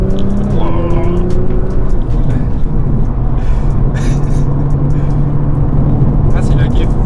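A Nissan GT-R R35 sports car drives with a loud, continuous low engine rumble close by, while people talk over it.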